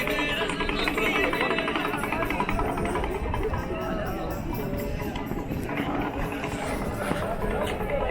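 A dense crowd of pilgrims queuing at Kedarnath temple in cold weather, a continuous loud wash of murmuring voices and shuffling at close range with no pauses, and a nearby speaker talking over it.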